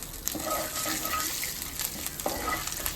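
Ingredients frying in a pan for a potato and coconut rice dish, a dense continuous sizzle with faint stirring scrapes and small bubbling pops, close and even throughout.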